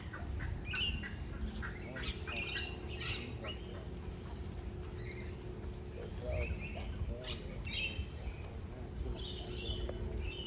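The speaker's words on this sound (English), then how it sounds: "we found a tree that housed an amazing number of birds" A crowd of birds in a tree in a botanic garden gives off a busy, faint chorus of chirps and squawks over a steady background hum, with no talk.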